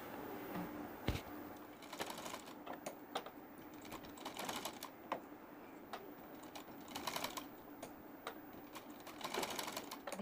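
Sewing machine stitching a 4-inch net frill for a sleeve, its rapid needle clatter running in bursts of varying length with short pauses between, close and steady, with no voices.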